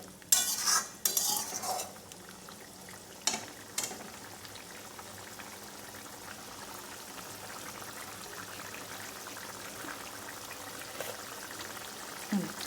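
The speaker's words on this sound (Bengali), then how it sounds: "নেড়ে নিই আগে।" A spoon clatters and scrapes around a pot of simmering vegetable curry in a few quick bursts at first, then a low, even bubbling simmer carries on quietly.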